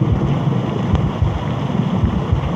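Storm wind buffeting hard with rain, a loud rumbling gusty rush that surges and swells continuously, with no voices.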